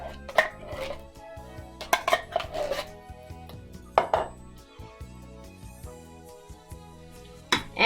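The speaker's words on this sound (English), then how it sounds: "you would want to add the chili, the no bean chili. Just scoop it in there." No-bean chili scooped and spread into a pan, with scattered utensil scrapes and knocks against the pan in an irregular rhythm, close and fairly loud.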